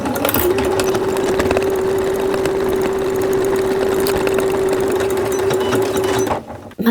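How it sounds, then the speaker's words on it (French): Sewing machine topstitching a children's rain cape runs in one continuous, even, loud whir for several seconds before stopping abruptly. "Maintenant, je vais faire une surpiqûre tout le long pour que ça reste bien en place."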